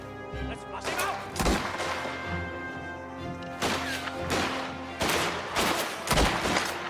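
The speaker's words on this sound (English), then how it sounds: "We're just gonna straight up shoot." Repeated loud gunshots from the video game Mafia: The Old Country, booming at irregular intervals over a sustained game soundtrack, with no voice during the shots.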